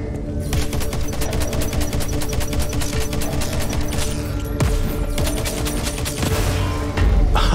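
Dense rapid gunfire and explosions in the video game Crackdown 3, with a continuous rattling fusillade punctuated by heavier booms, loud and close, with no talk.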